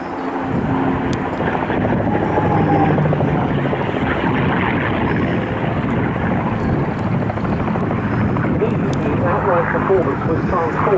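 A P-51 Mustang with a Rolls-Royce Merlin engine drones steadily and loudly at an airshow, its engine roar continuous throughout.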